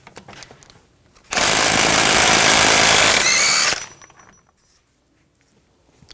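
A power tool with a 36mm 12-point socket spins off the front axle nut of a 2000-2006 BMW X5 3.0L, a loud, steady burst of about two and a half seconds between quieter shop noises.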